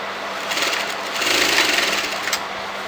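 Sewing machine stitching fabric for a shawl collar on a kurti, a steady rapid mechanical whir running continuously and close for about three seconds, rising slightly in the middle, with no talking.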